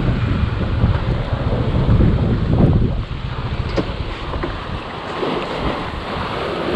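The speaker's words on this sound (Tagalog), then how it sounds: "Malakas ang alon" Loud, continuous rush of strong waves crashing against a seawall on Taal Lake, with heavy wind buffeting the microphone, swelling stronger at first and easing slightly later.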